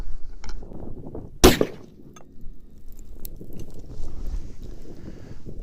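A single sharp, loud rifle shot from a T/C Compass in .308, firing a 168gr A-Max handload over 44.2 grains of IMR4064, cracks close by amid light outdoor wind and handling noise.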